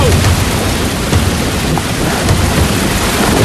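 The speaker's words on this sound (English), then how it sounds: "Big lightning strike right there." Heavy thunderstorm with a nearby lightning strike: a dense, continuous roar of thunder rumble and pouring rain, loud and close, with no clear talking.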